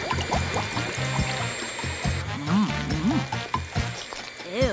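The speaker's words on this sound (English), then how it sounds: "Let's start by adding some soap and water." Soap and water pour into a small makeup-washing gadget, gurgling, bubbly liquid sounds with rising glugs and splashes, moderately close and fairly quiet.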